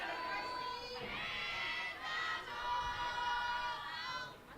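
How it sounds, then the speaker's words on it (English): A crowd at a college softball game at Majestic Park cheers and shouts steadily, a broad, fairly distant roar of many voices that swells and dips over several seconds. "And the crowd is loving it here at Majestic Park."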